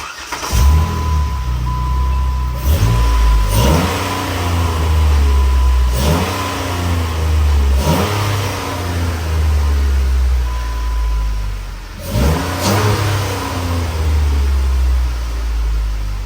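A Jeep Wrangler 3.8 engine with performance upgrades revs repeatedly, several sharp throttle blips rising and falling over a steady low rumble, loud and close.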